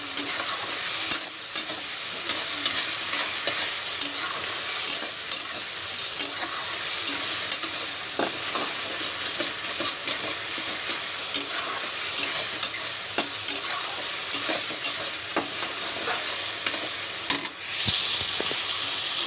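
Masala with tomato for an egg tarka fries in a pan with a loud, constant sizzle, while repeated scraping taps of stirring sound throughout.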